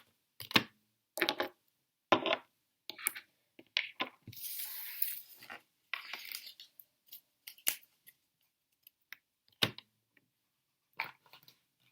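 Tarot cards being gathered up and taken away in a psychic card reading, heard as a series of short, crisp card flicks and shuffling slides spaced through the clip, with one longer rustling sweep, close and fairly quiet, no talking.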